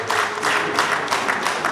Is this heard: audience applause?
yes